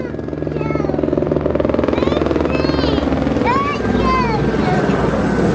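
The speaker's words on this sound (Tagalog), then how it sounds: "kaya may mga ganyang helicopter kasi malapit lang sila sa may base" A helicopter flies near a military base along a neighborhood road, its steady rotor drone loud and continuous throughout, with bird chirps and people talking over it.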